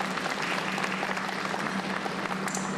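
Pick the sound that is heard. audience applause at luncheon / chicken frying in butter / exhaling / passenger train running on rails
audience applause at luncheon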